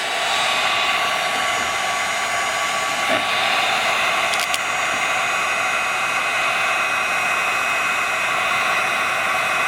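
A heat gun blows steadily, close and loud, warming tint film on a 2018-2023 Mustang tail light; an unbroken hiss of rushing air runs the whole time with no talk.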